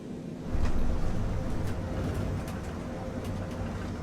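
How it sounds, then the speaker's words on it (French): Boeing 777 engines in Flight Simulator 2020 throttle back for the landing flare. The result is a continuous broad, low roar that eases only slightly and holds steady throughout, with no voices over it. "Je réduis les gaz, je fais l'arrondi."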